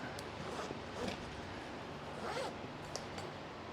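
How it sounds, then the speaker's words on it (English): Quiet, scratchy zipper pulls on a CRIPOP tool backpack repeat a few times in short strokes, close by, over a soft steady background hiss. "let's zip that back up"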